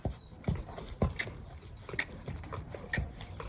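A young gaited horse steps sideways off the rider's leg while opening a gate, its hooves striking in an uneven clip-clop of roughly six soft thuds on ground, fairly close, with no speech.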